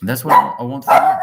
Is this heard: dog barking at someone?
yes